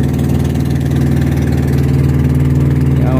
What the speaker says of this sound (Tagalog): ano yan makina po ng truck